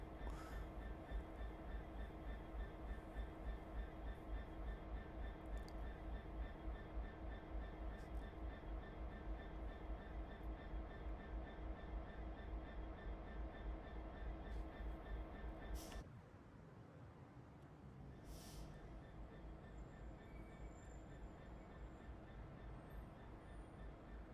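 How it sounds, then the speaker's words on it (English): Diesel train running in the Train Simulator Classic game, a loud, steady engine drone with a rhythmic beat that suddenly drops to a quieter rolling rumble partway through, with a couple of brief clanks after. "I don't want to be near that stinky, noisy diesel"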